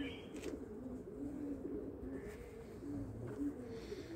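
Racing pigeons in a loft coo softly and steadily, low murmuring calls repeating through the whole stretch at moderate distance, with no clear talk over them.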